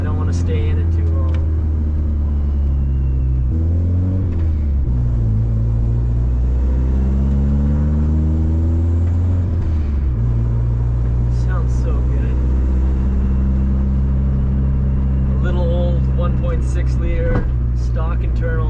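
Turbocharged 1996 Honda Civic with a stock-internal D16Y7 engine on 8 psi pulling hard, the engine note sweeping up and down loudly, with exhaust pops and crackles near the end and talk over it.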